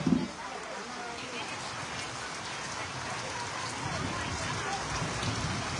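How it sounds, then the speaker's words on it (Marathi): Heavy rain falls steadily in a village as a dense, continuous hiss of drops striking surfaces. A brief louder knock comes at the start, then the downpour runs on evenly at close range. "खूप असा जोराचा पाऊस पडला"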